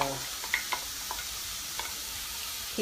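Peas and carrots sautéing in a pan, a steady close sizzle with a few light stirring clinks and scrapes on top, no voices.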